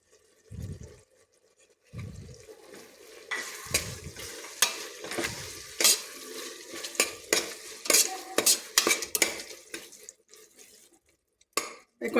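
Onions and tomatoes with coriander and mint sauté in a pan, with sizzling and repeated stirring scrapes that come in bursts after a few quiet taps, close and moderately loud.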